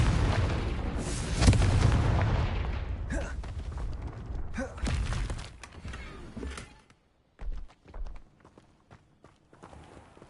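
A Confringo fire spell exploding in a video game, a loud booming blast up front that rumbles and fades, followed by scattered debris thuds, clatter and footsteps before the sound drops away.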